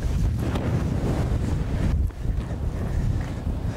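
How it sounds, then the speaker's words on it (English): Strong wind buffets the microphone in a steady, loud roar with a brief dip midway, no voices heard. "Wow, it's windy."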